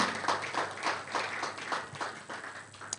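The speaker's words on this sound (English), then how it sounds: "A round of applause for him." Audience applause at a conference on carbon capture in Nigeria, a steady patter of many hands clapping at moderate volume, with faint voices beneath and a slight swell near the end.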